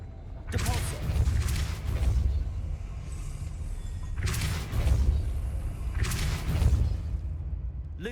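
Spell effects cast in the Hogwarts Legacy video game: three bursts of forceful whooshing blasts with booming low rumble, each about a second long and spaced evenly, loud and close, with no talking.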